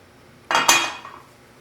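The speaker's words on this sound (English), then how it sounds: "an egg beater, a banana masher, a wooden spoon, and a spatula. And of course, measuring spoons and a pan." A brief clatter of kitchen utensils against a pan, two sharp metallic clinks in quick succession with a short ringing tail, close and alone with no talking.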